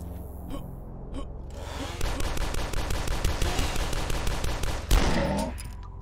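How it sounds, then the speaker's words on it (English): Blasts from a shotgun in the first-person shooter Dusk: a few sharp, heavy shots at first, then a dense burst of rapid, loud firing with one booming blast near the end. "the sound design from the shotgun is literally superb"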